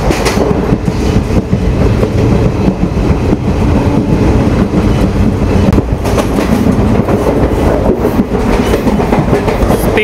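Kollam to Chennai Egmore passenger train running at about 80 along a hill route, a steady loud rolling roar with clickety-clack from the wheels throughout, close and continuous with no voices.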